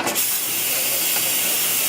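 A loud, even hiss of steam escapes from an Instant Pot pressure cooker as it vents, opening with a brief knock or click before the constant rushing jet carries on alone.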